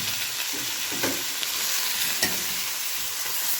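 Lamb meat sautéing with onions in a pan, a dense, even hiss of frying fat with a few soft stirring knocks underneath, steady and close with no one talking.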